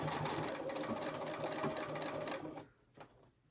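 Close and steady, a sewing machine runs continuously while stitching fabric for a mini oven mitt, its fast whirring hum stopping abruptly near the end, followed by a faint click.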